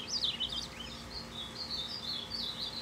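Caged songbirds chirp and warble in quick, high continuous phrases, fairly faint over a low steady background hum, with no talking.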